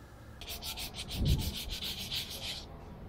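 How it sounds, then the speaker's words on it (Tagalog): Sandpaper scrubs back and forth on the right side crankcase cover of a Honda motorcycle, a quick rhythmic series of close rasping strokes that keeps an even beat, no voices. "para matanggal yan, ililihan natin siya"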